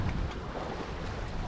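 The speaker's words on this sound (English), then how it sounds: "This is the wind." Wind at sea aboard a sailboat during a west-to-east Atlantic crossing, a steady broadband roar with continuous microphone buffeting and wave wash, loud and constant without any talk.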